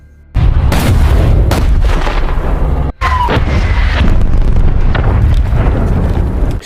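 Long-range artillery fire in an action film: heavy, loud booms and blasts roll almost continuously, with a brief cut midway before the barrage resumes, dense and close.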